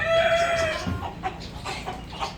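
A turkey at an agricultural farm in Ambalavayal, Wayanad, gives a nasal, wavering call up close, followed by a few short clucking gobbles fading off.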